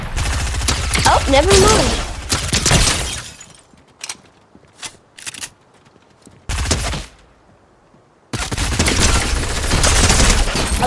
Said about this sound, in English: I love this suppressed pistol.